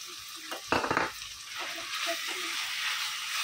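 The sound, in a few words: minced chicken frying with ginger garlic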